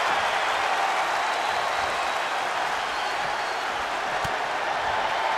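Steady arena crowd roar and cheering from a WWE 2K25 wrestling match, a dense continuous wash of noise lasting throughout, with no speech over it.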